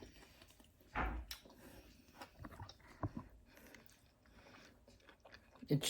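Close, moist chewing of a crunchy fried pork sandwich with occasional crunchy bites, irregular mouth sounds with short pauses, fairly quiet.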